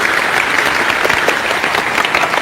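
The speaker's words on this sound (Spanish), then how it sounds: "Un aplauso para el hermano." Loud, continuous audience applause after a religious debate between a pastor and a priest, a thick, even wash of many hands clapping without a break and with no speech on top.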